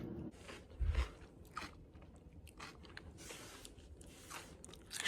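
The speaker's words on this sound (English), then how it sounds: "I need to like chew it." Someone chews a fiber snack close up, with soft crunches and wet mouth sounds in irregular bursts over a quiet background.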